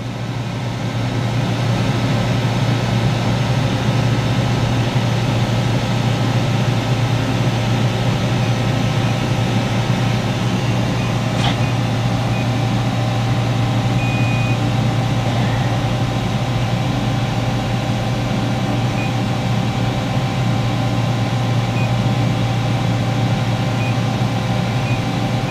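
Spindle of a Matsuura RA-1X CNC machining center, built 2000, running at 1,000 RPM: a steady, even hum with a constant low drone and faint high whine, unchanging throughout with no talking.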